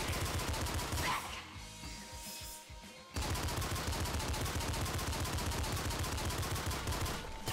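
Rapid, continuous gunfire from the roguelike video game Nuclear Throne, loud and dense with steady repeated shots, briefly thinning out before resuming at full intensity.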